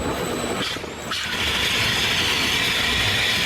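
A motorcycle engine with an aftermarket exhaust drones loudly, then dips as the throttle is released, leaving a steady hissing, rumbling run-down with no talking.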